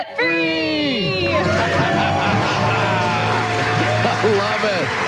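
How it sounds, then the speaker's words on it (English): A radio caller lets out a loud, sustained scream of joy after becoming debt-free, a harmonic voiced yell that rises and holds, then breaks into overlapping shouting and cheering over a steady low hum. "Let's hear a debt-free scream"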